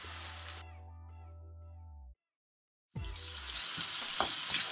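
Tomato and spice masala with coriander powder, red chili and garam masala fries in a pan for sarson ka saag, heard as close, bright sizzling with stirring scrapes after a short gap of near silence.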